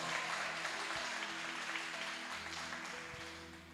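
Church congregation applauding, a steady faint wash of many hands clapping heard at some distance, with a sustained musical tone underneath.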